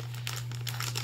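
A plastic shopping bag from a dollar-store haul crinkles steadily in repeated bursts, close and fairly quiet over a constant low electrical hum.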